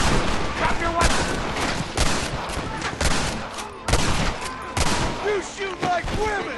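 Loud gunfire in a Red Dead Redemption shootout, with sharp repeated shots at irregular intervals, some close and cracking, others overlapping in volleys, over continuous background din.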